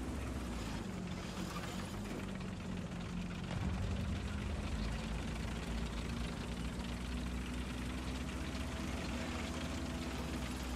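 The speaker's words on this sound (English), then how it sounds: "Oh, the agony of the M60 engine." An M60A3 TTS main battle tank engine idles in the War Thunder video game, giving a steady, continuous low rumble throughout with no talk.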